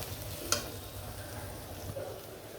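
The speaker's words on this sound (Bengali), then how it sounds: "কিশমিশি, আলু বোখরা দিয়ে দিব। আমি একটু ভেজে নিই।" Raisins and dried plums (alu bokhara) fry quietly in a pan for chicken roast, a soft low sizzle with a single sharp tick of utensil against metal near the start.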